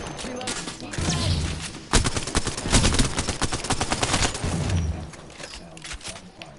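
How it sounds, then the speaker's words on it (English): Rapid gunfire in the battle royale game Apex Legends, with dense overlapping bursts and shots that keep building, loud and close throughout a hectic firefight. "sound of gunfire, mortars crumbling home"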